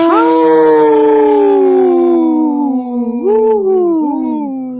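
A wolf howls in one long, loud, close call that slowly falls in pitch, then breaks into a few wavering rises before trailing off.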